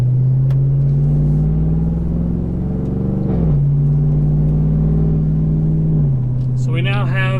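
A pickup truck with an engine and transmission tuned through EFI Live, heard from inside on a drive: a steady low engine drone with two gear-shift pitch drops, and a brief voice near the end.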